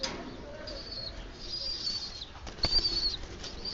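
A small sparrow flutters its wings as it is let go, giving soft bursts of flapping against a faint background, with a brief stronger flurry near the end.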